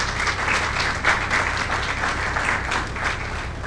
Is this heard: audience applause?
yes